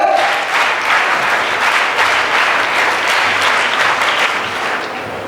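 A crowd of parents and cadets claps steadily at a school investiture ceremony, dense and sustained applause filling the hall throughout, tapering slightly near the end.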